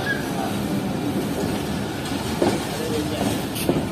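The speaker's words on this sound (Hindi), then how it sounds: "अब जाकर रुकी है ट्रेन।" A Pak Business Express train on the Karachi to Lahore line rolling through a station, heard from inside as a steady rumbling hum with a few faint knocks and a brief squeal near the end.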